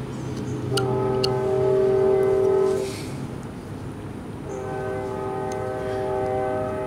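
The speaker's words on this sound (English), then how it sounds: "We have a train that is near my mother's house, and you can hear this train 3 times a day, and it's loud." A loud train passing near a house, its horn sounding in long sustained harmonic blasts, pausing briefly and then blaring again over a steady rumble of rolling cars.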